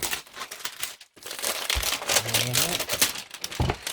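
Plastic packaging crinkling and rustling as a box holding a HGLRC Petrel 120X Pro mini FPV drone is opened, with steady close crackling and a few brief tearing rustles.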